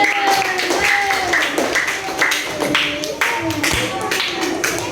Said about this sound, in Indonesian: kasih tepuk tangan untuk teman-teman dari sana.